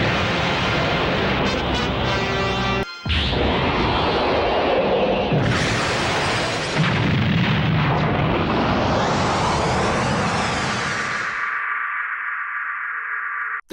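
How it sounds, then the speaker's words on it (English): Huge cartoon explosion from Dragon Ball Z as Kid Buu's single ki attack wipes out the Earth, a sustained roaring blast with a rushing whoosh after a brief cut, loud and unbroken before fading into a lingering tone. "Kid Buu uses one single ki attack to effectively wipe out the Earth from existence."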